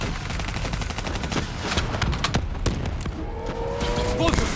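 Dense, loud gunfire fills a Call of Duty Black Ops 3 firefight, rapid overlapping shots and bursts running continuously over other battle effects.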